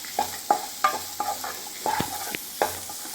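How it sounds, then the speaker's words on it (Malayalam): Shallots and finely chopped onion sauté in a hot pan while a utensil stirs them, giving a soft sizzle under repeated scraping strokes, close up, with no voices. "സവാള ചെറുതായിട്ട് അരിഞ്ഞതാണ് നന്നായിട്ട് വഴക്കാം"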